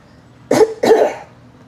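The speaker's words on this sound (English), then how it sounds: "I just feel bad that I'm coughing" Two sharp coughs in quick succession from a woman eating on camera, close and fairly loud, standing alone in an otherwise quiet room.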